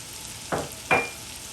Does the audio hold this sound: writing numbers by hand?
no